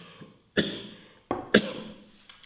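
Three sharp, close coughs spaced apart over a couple of seconds, each with a brief raspy tail, alone without speech.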